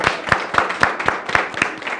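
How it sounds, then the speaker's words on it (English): A studio audience on a Cape Town TV show claps steadily, a dense run of hand claps at a moderate distance, with no talk over it. "I love the fact that they always clap when you come back."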